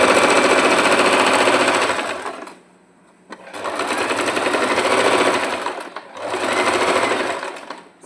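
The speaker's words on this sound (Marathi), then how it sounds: "इथून असं मी स्टिच करणार आहे याला इथे बघा" A sewing machine stitches the front of a blouse in three loud, close bursts of rapid whirring, separated by short pauses.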